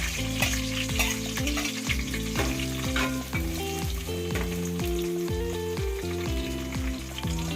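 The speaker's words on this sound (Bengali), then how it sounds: "খুব ভালো করে ভেজে নেব" Onion and whole spices frying in a pot for a white chicken yakhni biryani, a loud continuous close sizzle and crackle with scattered pops and spatters throughout, no voices.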